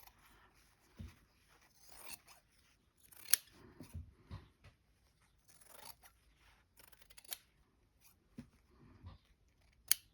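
Scissors cutting fabric down the middle for a cushion: scattered, quiet snips and rustling scrapes of blades through cloth, close up, with pauses between cuts.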